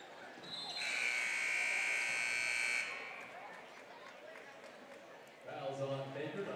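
A harsh electronic end-of-quarter buzzer blares for about two seconds in a high school boys basketball gym, loud over crowd noise, followed by the murmur of the crowd and an announcer's voice.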